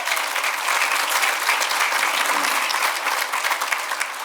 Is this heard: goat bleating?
no